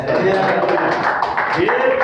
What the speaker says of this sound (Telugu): ఇప్పుడు గట్టిగా చప్పట్లు కొడదాం